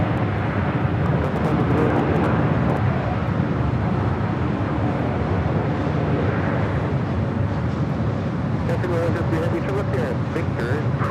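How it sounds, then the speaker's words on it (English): A Qatar Airways jet arrives at Los Angeles LAX from Anchorage, its engines a continuous loud, broad roar throughout, with radio chatter and voices heard over it. "It's Qatar Air Queen coming in from Anchorage,"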